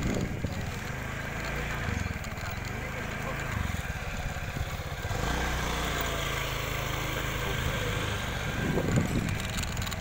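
A motorcycle engine runs at a low, steady putter in the background, with voices talking over it throughout.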